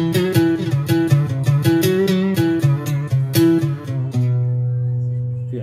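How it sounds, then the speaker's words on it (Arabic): A sampled oud voice on a Yamaha PSR-A5000 keyboard plays a quick run of plucked, twangy notes over a low drone, closing on a held low note that rings and fades. "ننتقل الى العود اللي هو مسواي بطريقة السامبلر"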